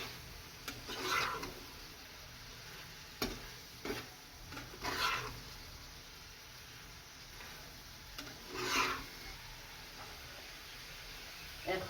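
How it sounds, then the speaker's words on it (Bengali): Steamed taro stems are stirred in a pan, with faint frying sizzle underneath and several soft scraping strokes and light spatula taps spread out at intervals, quiet and close. "এখন সবগুলো ঢেলে দিব, ভালোভাবে নেড়ে চেড়ে নিব।"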